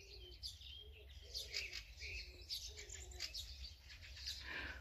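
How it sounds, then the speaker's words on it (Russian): A common wood pigeon gives low, mournful repeated cooing calls in a rural village setting in spring, with other small birds chirping and tweeting over it and steady background noise throughout. "Да, заунывные звуки, пением это не назовешь. Это лесной голубь."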